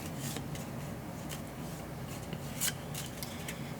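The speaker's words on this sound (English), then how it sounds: "So I'll go ahead and shuffle this again." Someone shuffles a deck of cards for the board game Explosion in the Laboratory, soft repeated riffling and rubbing with a few sharper snaps, close and quiet, with no talk.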